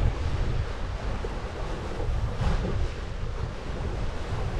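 Strong wind and rushing waves around a sailboat under way at sea on a passage toward Bergen, a steady roaring wash with heavy wind buffeting the microphone, no voices.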